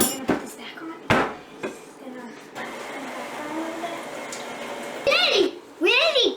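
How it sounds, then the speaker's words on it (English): Sugar is whisked fast in a bowl, a busy run of rapid metallic scraping and clatter, with children and adults talking and a few sharp knocks of utensils. "Whisk it really, really fast."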